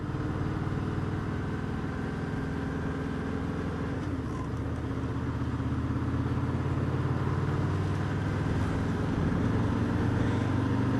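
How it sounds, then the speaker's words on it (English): A Honda Interceptor motorcycle engine runs steadily with its throttle rolled on and off, giving a continuous mechanical drone that swells gently toward the end, heard close and alone without talk. "starting to get used to the sound of this bike"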